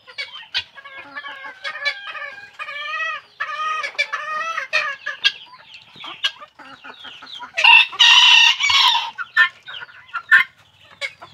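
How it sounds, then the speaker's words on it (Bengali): Chickens, including white hens, cluck steadily on a fancy chicken farm, and a rooster crows loudly partway through, the calls close and overlapping. "এই যে সাদা মুরগি।"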